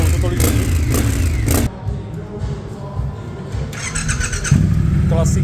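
A motorcycle fitted with a Remus exhaust revs loudly in several sharp bursts, then settles to a throbbing idle and revs again, heard up close alongside voices.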